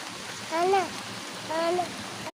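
Rain hisses steadily in the background while a voice makes two short, drawn-out sounds over it.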